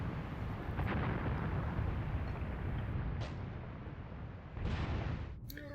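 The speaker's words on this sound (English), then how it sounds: "You can see my 105 rounds, just the sighting rounds, coming in up here." Distant 105 mm artillery sighting rounds land in Graviteam Tactics, sending low rumbling blasts that roll under a continuous battlefield din, with sharper bursts near the start, middle and end.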